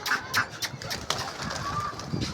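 Soft bird calls and cooing from pigeons, fairly close, with a few brief chirps and light background noise throughout.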